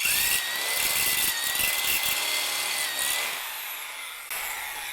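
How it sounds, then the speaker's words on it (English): Step drill bit boring a hole during a rear camera install on a John Deere 1025R tractor, a continuous close, loud grinding whine with a slowly shifting tone, easing slightly toward the end. "Now I gotta drill."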